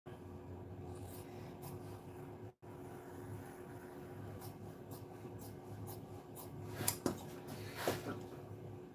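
Material for a custom Toyota 4-Runner tire cover being cut, a steady scraping, rasping rub that continues close by with a brief pause and a few sharper scratchy strokes near the end, with no talking.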